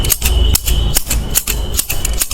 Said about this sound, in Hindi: इस तरह से आप जब नाम लिख लो तो आपको कैंची बजानी है